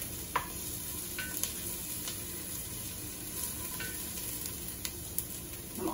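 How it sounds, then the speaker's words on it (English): Garlic and ginger sauté in a pan for a soy braised winter squash, giving a soft, quiet sizzle with a few light scrapes and taps of stirring. "we're going to saute until the mixture becomes fragrant. You're going to want to continue stirring so everything doesn't stick."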